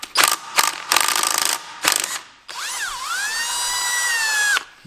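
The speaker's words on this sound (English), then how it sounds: "You torque it the same way," A ratchet torques the bolts on a junkyard independent rear suspension swap, clicking in several quick close bursts, then giving way to a sustained whirring tone that rises briefly and holds before stopping.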